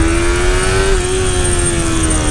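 A new motorcycle pulling away on its first ride of the year: a loud, close, continuous engine drone holding a steady pitch that rises slightly then settles, with no talk.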